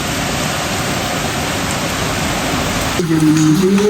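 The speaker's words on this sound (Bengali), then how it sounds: "আবার ভালোই জোরে বৃষ্টি নেমেছে।" Heavy rain pours down steadily as a dense, loud, continuous hiss, and a voice begins singing in the final second over the downpour.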